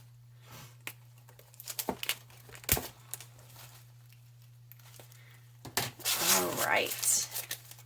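Box being cut open at a Happy Planner unboxing, with scattered crinkling and tearing of packaging, quiet at first and then a louder, sustained burst of rustling toward the end, under a steady low hum and a few spoken words.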